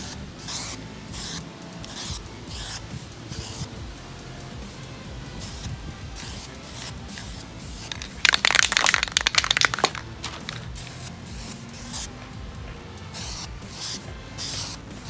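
Close hiss of an aerosol spray can coating a Honda Grom motorcycle part in a light coat of paint, one steady burst of about two seconds amid quieter handling and rubbing noises.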